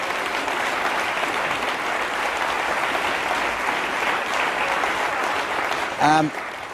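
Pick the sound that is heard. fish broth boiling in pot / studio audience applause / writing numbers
studio audience applause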